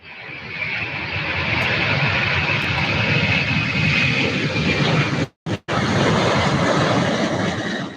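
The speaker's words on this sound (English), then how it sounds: "Here's our MD-11." An MD-11 airliner roars steadily at an airport, a loud, dense jet rumble with a high whine running through it, broken only by a brief dropout before the noise resumes at full strength.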